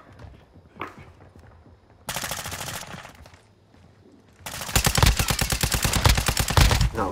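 Call of Duty: Modern Warfare II gunfire: two loud bursts of rapid automatic shots, a shorter one and then a longer sustained one, with quieter scattered noises between them.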